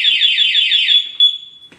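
Honda Click 125i scooter fitted with a two-way alarm sounding a loud, close, rapidly warbling siren for about a second and a half, then holding a steady tone before cutting off abruptly.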